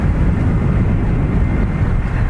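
Ryanair jet departing Dublin Airport for Barcelona, a steady loud broadband engine roar with heavy low rumble and some wind buffeting, continuous and close throughout.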